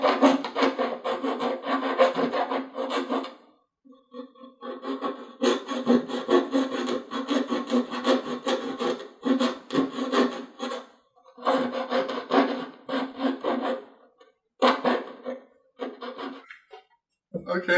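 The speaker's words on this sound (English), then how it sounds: "So I'm going to use an 1/8" round file." A 1/8 inch round file rasps back and forth through bolt holes in the wing of an LA Racer 40 model plane, in close, steady strokes broken by short pauses.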